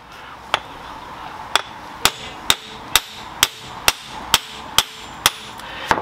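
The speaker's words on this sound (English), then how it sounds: "Alright, so now we're gonna take a real hammer" Sharp metallic hammer blows strike a 2003–2010 Saab 9-3's mid shaft bearing at a steady rhythm, about one per half second, ringing over a low background hiss.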